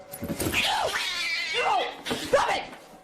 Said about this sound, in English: Watch this part and you'll see the cat attack her purse with all of its might.